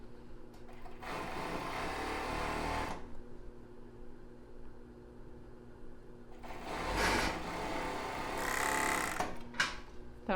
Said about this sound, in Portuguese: colocar bem embaixo da overlock, lá no final